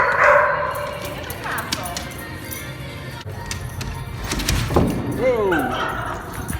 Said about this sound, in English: so that's Destyn's two dogs there in the background